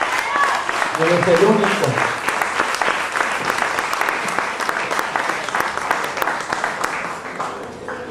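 Congregation applauding at a church service, dense sustained clapping from a large crowd throughout, with a voice briefly speaking over it.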